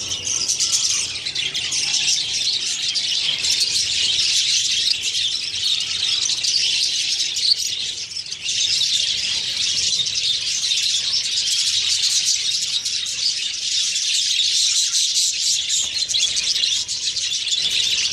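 Budgerigars in a cage chirp and twitter continuously, a dense bright chatter of many small overlapping calls heard fairly close and steady throughout, with no talking.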